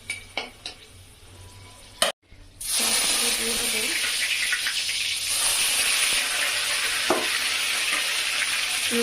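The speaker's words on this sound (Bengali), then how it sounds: "তারপরে গোটা মশলা আমি ফোড়ন দিলাম।" Whole spices sizzle in hot oil for a Bengali prawn malai curry, a steady loud hiss that starts abruptly after a few clinks and a brief pause, then holds evenly close by with occasional stirring.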